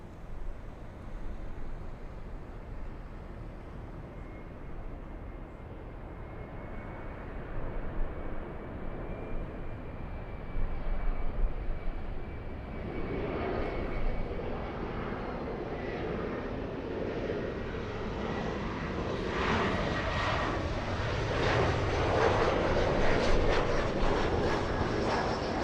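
An Airbus A350-1000 jet takes off from LAX bound for Heathrow, a steady broadband engine roar that builds and swells louder over the second half, heard from a distance with no voices.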